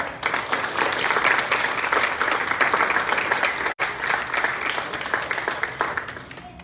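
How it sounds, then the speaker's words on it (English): Sustained applause from a crowd at a book launch, dense and steady clapping throughout with a momentary dip partway through. "A round of applause for her"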